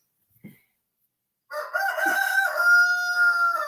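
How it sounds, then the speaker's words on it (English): A rooster crows loudly and close by, one long drawn-out cock-a-doodle-doo, after a brief soft sound and a pause of silence. "Sorry for the cock crowing."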